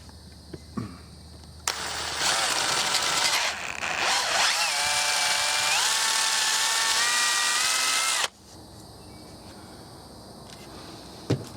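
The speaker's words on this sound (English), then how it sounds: "I'm going to go ahead and drill this" A power drill whirs loudly for several seconds while drilling out the front of a Marlin Model 60 rifle, its pitch shifting as it bites, then cuts off sharply; brief clicks before and after.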